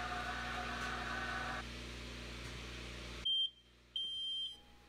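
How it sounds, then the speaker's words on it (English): A heat treat kiln alarm in a knife-making shop sounds at the end of a cycle with two loud electronic beeps after a steady hum of machinery fades away. "Once the heat treat cycle is complete, the alarm will sound, letting us know it's time to pull them out."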